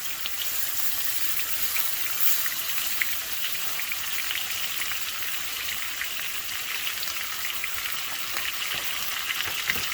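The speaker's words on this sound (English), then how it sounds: "And we're going to go ahead and sear all this" Chuck roast sears in a hot pan, a continuous dense sizzle with crackling pops and spits, steady and close for the whole stretch.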